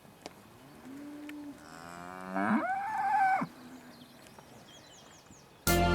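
A dairy cow lets out one long, drawn-out moo that rises and then breaks off, with faint birdsong chirping in the background.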